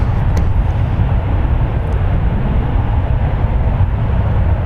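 A SkyWest Airlines Embraer 175LR jet at San Francisco International Airport produces a continuous low, rumbling engine roar, steady and fairly loud, with no talk over it.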